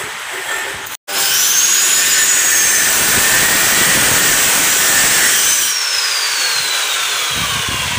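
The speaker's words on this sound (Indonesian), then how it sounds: "Jadi suara agak bising karena di sini bengkel memang bengkel teralis besi" Loud, constant grinding roar in an iron trellis workshop, likely a power tool cutting or grinding metal, running nearly nonstop with a brief cut near the start and a slight drop toward the end.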